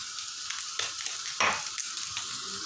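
Chicken sautéing in a pan with a spoonful of olive oil just added, a steady close sizzle with a few stirring scrapes and a brief louder burst midway.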